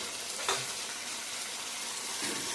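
Meat and potatoes sizzle steadily while being sautéed in a pan, with a brief stirring scrape near the start and a continuous frying hiss throughout.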